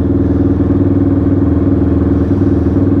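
Motorcycle with a Rossier exhaust warms up at idle, its engine thrumming steadily and loudly at close range with an even, unbroken pulse.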